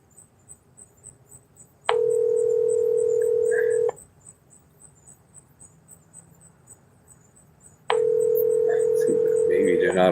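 A telephone sounds a steady dial tone in two bursts of about two seconds each, separated by quiet, with faint outdoor insect chirping beneath and small dialing beeps near the end.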